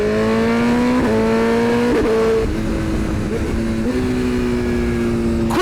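BMW M 1000 RR sport motorcycle on a dyno, its engine revving hard and steadily at high rpm, with quick gear-shift blips breaking the sustained loud wail every second or so; no speech.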